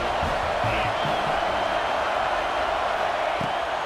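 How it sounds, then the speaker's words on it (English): Stadium crowd noise from the College Football 26 video game at a Georgia at Michigan matchup, a dense, steady roar of many voices holding constant throughout, with faint commentary beneath. "This crowd trying to make life miserable for this offense."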